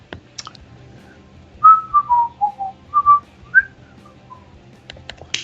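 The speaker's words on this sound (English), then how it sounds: "What is that whistling?" A person whistles a short, wavering tune of about eight bright, slurred notes, close and clear, with only faint background rustle and no talk over it.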